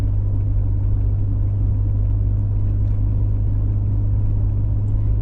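Vehicle towing a trailer on a snowy, icy road, its steady low rumble and engine drone continuous and close throughout, with no talk.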